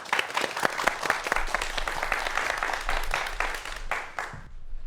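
An indoor audience claps to welcome a lecture on management, a dense burst of applause that carries steadily and then tapers off near the end.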